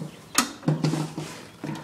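Parking brake lever being set on a Craftsman lawn tractor before a cold start after five months of sitting, giving a few close mechanical clicks and ratcheting clunks spread over two seconds, with no talking.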